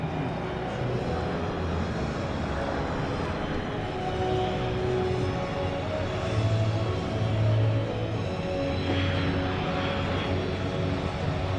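Boeing C-17 Globemaster III military transport jet flying past at the Dover Air Force Base open house air show, a steady loud engine roar lasting throughout with little change, with faint crowd or announcer voices beneath it.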